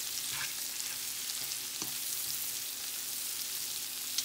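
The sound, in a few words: stirring shrimp in butter in a pan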